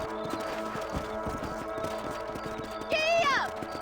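Rhythmic clip-clop of horse hooves galloping in Red Dead Redemption, a steady fast beat of hoofbeats with a high whinny-like call near the end over a short spoken shout.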